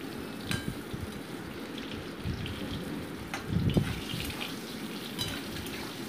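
Eggplant fries in a pan, a faint, steady crackling sizzle with small pops and a brief louder burst midway.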